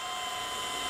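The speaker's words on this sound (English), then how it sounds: "So I'll start by drilling a couple holes" A drill boring starter holes in sheet metal before a pneumatic nibbler is used, a steady high-pitched whine held for about a second with no talk.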